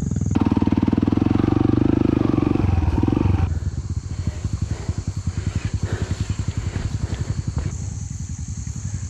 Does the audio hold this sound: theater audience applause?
no